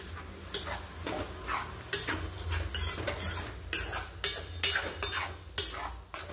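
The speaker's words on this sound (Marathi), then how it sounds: "व्यवस्थित मिक्स करायचं." A spoon scrapes and stirs kaju curry masala in a pan in a run of quick, irregular strokes, with light sizzling underneath and no talk.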